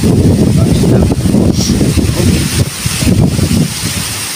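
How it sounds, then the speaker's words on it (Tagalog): Strong wind buffets the microphone outdoors during cooking prep for lechon pork belly, a steady loud rumbling roar with gusty swells and no clear speech. "Ang lakas ng hangin dito sa labas."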